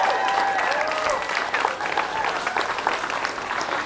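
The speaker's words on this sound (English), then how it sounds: "Big round of applause for Nomad" An audience at a national bouldering championship final in a climbing gym applauds steadily throughout, a dense wash of clapping at moderate loudness, with a brief voice heard at the start.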